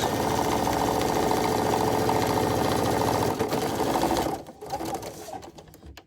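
Sewing machine stitching in the ditch along a quilt seam, a steady fast mechanical whir for several seconds before slowing and stopping in short bursts.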